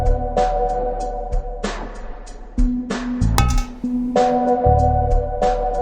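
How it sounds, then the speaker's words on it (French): Coins dropping one after another into a metal bucket, each landing as a bright ringing clink with a short metallic decay, repeating in a steady, fairly loud series with no talk. "c'est le bruit d'un sou qui tombe dans un seau de métal."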